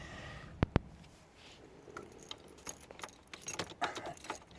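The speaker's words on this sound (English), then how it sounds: "Insert the key. Turn to the on position." A Chevy Cavalier key jingles on its ring with a couple of sharp metallic clicks, followed by quieter scraping and clinking as it goes into the ignition lock cylinder.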